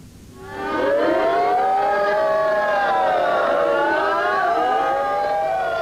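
Air raid sirens wail over Tel Aviv during the 1991 Gulf War, several overlapping tones rising and holding in a loud, sustained civil defense howl that fills the whole stretch without voices.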